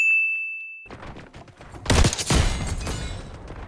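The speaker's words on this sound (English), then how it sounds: "I was shooting at you, my boy" Gunfire in the shooter game Black Ops 6, with a short tone followed by a burst of sharp, loud shots near the middle and scattered fire trailing after.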